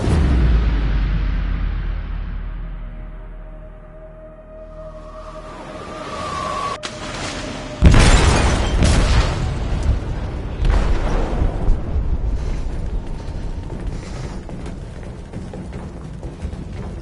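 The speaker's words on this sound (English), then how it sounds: "They detonated an explosive in the hold." A low rumble fades before a sudden loud blast erupts aboard a ship in Detroit: Become Human, followed by a long rolling, crackling roar of debris and turbulence that slowly settles.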